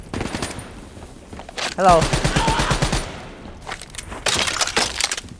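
Bursts of automatic gunfire in Call of Duty Black Ops 3 come in several rapid volleys with sharp cracks and a brief glassy impact, interrupted by a short spoken greeting.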